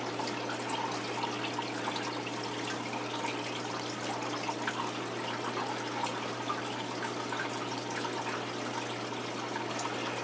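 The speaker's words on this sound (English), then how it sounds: "Tank definitely fills faster when you're not draining water out of it at the same time" An aquarium gudgeon tank fills with water during a water change, a steady rushing, splashing flow with a low constant hum running beneath it and no talking.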